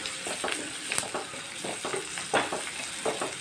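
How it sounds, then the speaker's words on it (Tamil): Small onions sauté in hot oil in a pan for brinjal kulambu, giving a continuous crackling sizzle with irregular spitting pops and soft stirring scrapes, close and steady with no talking. "நல்லா வெங்காயம் வதங்கிடுச்சு."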